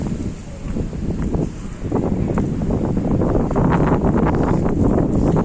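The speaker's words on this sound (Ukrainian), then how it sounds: "Вітер трохи." Wind gusts buffet a nearby microphone outdoors at the municipal market in Mindelo, with a loud, continuous low rumble that grows stronger partway through. No voices are heard.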